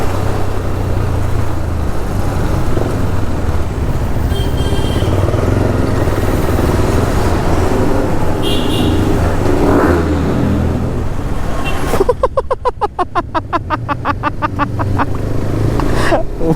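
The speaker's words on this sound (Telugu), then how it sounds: "ఇక్కడ ట్రాఫిక్ అవుతుంది అనేసి." Road traffic idling and moving at a railway crossing gate, a dense steady engine rumble, then a nearby motorcycle revving and pulling away loudly near the end.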